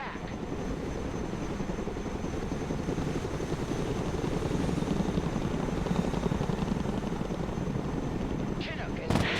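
A Chinook helicopter rotor thunders steadily in a military video game, loud and close, with gunfire bursts mixed in and a voice speaking near the end.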